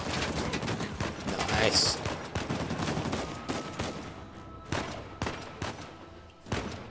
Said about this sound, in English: Please let me shoot someone with this big gun.